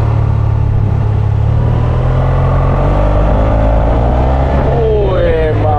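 A 2025 Yamaha T-Max scooter on a test ride sends out a loud, close engine roar that climbs sharply in pitch as the throttle is twisted near the end.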